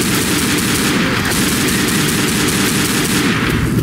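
Rapid, loud shotgun blasts fire in the zombie game Left 4 Dead, a dense unbroken barrage of gunfire with heavy low-end thumps throughout.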